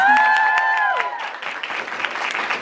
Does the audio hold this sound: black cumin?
no